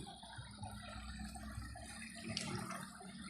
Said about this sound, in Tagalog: Ganda ng tubig, oh.